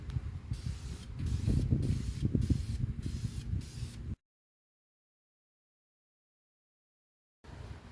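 Spray paint hisses onto a cleaned engine block in steady, close bursts that pulse as the can sweeps across different angles, then cuts out to silence before a fresh burst starts.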